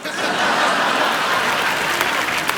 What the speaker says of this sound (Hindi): अगर यही है तुम्हारा इंसाफ तो ठोको ताली